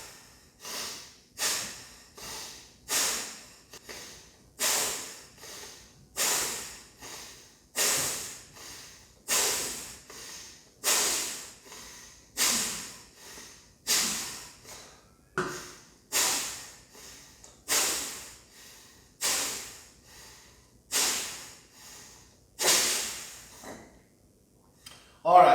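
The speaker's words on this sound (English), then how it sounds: "Breathe in and out really strong" Strong, forceful breaths in and out during a breathing exercise, repeated in a steady rhythm of about twenty sharp, loud, close rounds, with no other sound between them.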